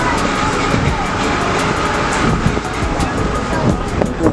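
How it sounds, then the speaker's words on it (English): Strong wind gusts rush across the open deck of the Disney Dream cruise ship near Nassau, roaring continuously into the microphone with a faint wash of sea beneath. "The wind's picked up a little bit."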